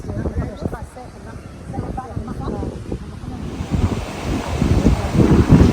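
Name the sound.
sea waves and wind on the Port Said coast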